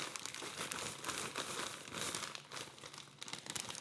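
A bag of Skittles candy is handled up close, giving steady, busy plastic crinkling and rustling with repeated crisp bursts throughout and no voices.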